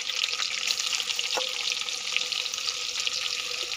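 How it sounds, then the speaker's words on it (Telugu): Chicken frying in oil with salt and turmeric, a steady close sizzle with crackles and occasional stirring clicks, no voices. "బాగా ఫ్రై చేయాలి."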